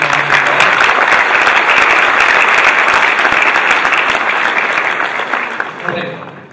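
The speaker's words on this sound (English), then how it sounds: "Please give him a round of applause." A conference main-stage audience claps in loud, sustained applause that fills the room and fades out near the end.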